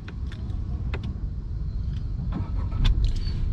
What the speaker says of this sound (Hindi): अगर मैं गाड़ी स्टार्ट कर रहा हूँ